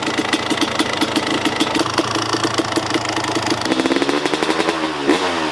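A small two-stroke Kawasaki KX250 dirt bike engine idles steadily nearby after a rebuild, a rapid popping putter that briefly quickens near the end.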